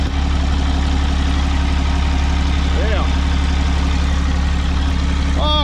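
A damaged Cummins diesel engine in a 4th-gen drag truck idles steadily with a loud, constant low rumble, with brief voices over it.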